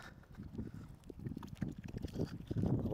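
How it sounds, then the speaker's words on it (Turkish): Wind gusts buffet the microphone at a lakeside highland campsite, a steady low rumbling roar that swells and fades over a few seconds, close and fairly loud, with no voices. "Ama bayağı esiyor şu anda."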